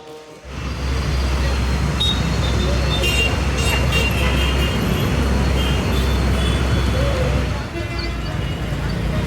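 Mannarkad bus pulling into Ukkadam bus stand in Coimbatore, a heavy low engine rumble that rises after a quiet start and holds steady, amid station crowd noise and a person talking over it.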